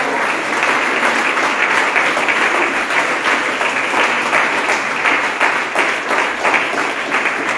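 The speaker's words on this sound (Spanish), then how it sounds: "Dale un aplauso al Señor Jesucristo." A church congregation at an annual fellowship gathering in Basúchil, Chihuahua, breaks into sustained, loud applause, many hands clapping together without pause from start to finish.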